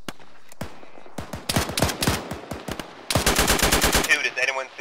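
Rapid bursts of automatic gunfire from a video-game firefight aimed at a BTR armored vehicle crew, sharp cracks in uneven volleys building to a dense sustained burst near the end.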